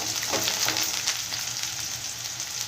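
Food sizzling and simmering in a pan while cooking a spicy Rayalaseema-style red chilli dish, a steady broadband crackle throughout with no talk.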